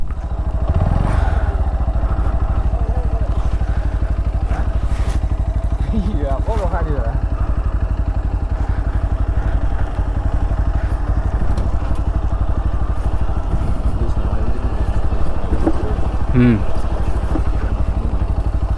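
A motorcycle rumbles steadily along a bad, muddy dirt road between farm fields in Karbi Anglong, Assam, its engine constant, with clattering thumps from the rough ground and a rider talking over it.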